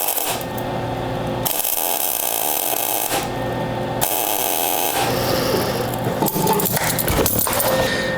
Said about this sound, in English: today I'll be using my Lincoln 180C Power MIG. It's a MIG welder.